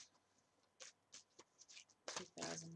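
Tarot cards being shuffled by hand, heard as soft, faint riffling bursts that grow busier and louder toward the end.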